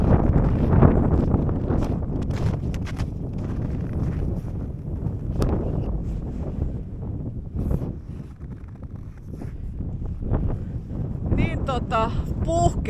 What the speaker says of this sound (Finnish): mutta nyt täällä tuulee niin hirveästi, että pitää kyllä lopettaa ja mennä johonkin muualle